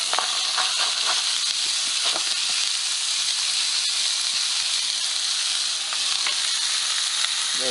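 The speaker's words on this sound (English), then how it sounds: "we're just going to slide that off in that hot skillet" Ground beef frying in a hot skillet, giving a steady loud hiss and crackle that holds throughout, with faint scraping and pops close by and no talking.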